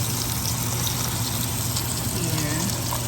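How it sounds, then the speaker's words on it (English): A kitchen vent fan runs as a steady broadband whoosh with a low hum, loud and constant throughout the short stretch. "I had to get the vent turned on"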